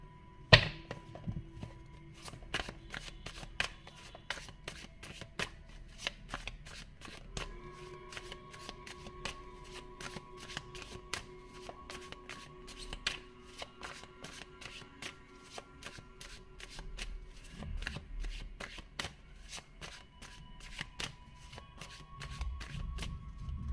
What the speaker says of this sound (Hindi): अब कार्ड्स भी निकाल के देख लेते हैं।